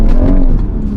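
BMW M140i with the B58 straight-six engine driven flat out in first gear, the engine roaring loud and steady at high revs from inside the car, with no talk.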